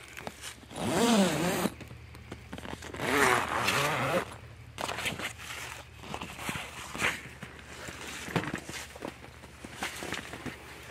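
Long, rasping zipper pulls on a Primos Double Bull SurroundView 270 ground hunting blind sound up close, several in a row with pauses, alongside rustling fabric and shuffling movement.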